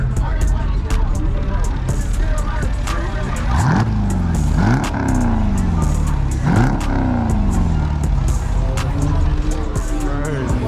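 A Dodge SRT pulls up at an evening car meet in Atlanta, its engine rising and falling in repeated revving sweeps. Crowd noise and voices fill the background throughout.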